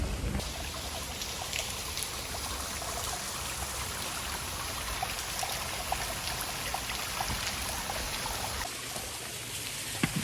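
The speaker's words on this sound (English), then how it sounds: "Yes, this waterfall behind me." Waterfall at Great Falls, South Carolina: a steady, close rush of falling water, even and unbroken throughout, with no talking.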